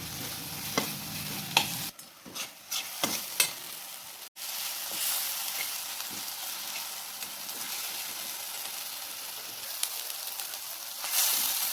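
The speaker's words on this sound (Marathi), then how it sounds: "वाटण हे व्यवस्थित परतून घेऊ सुरुवातीला." Ground spice paste sizzles steadily in a pan while being sautéed for tomato chutney, with a few sharp scrapes and stirring knocks early on over a constant close frying hiss.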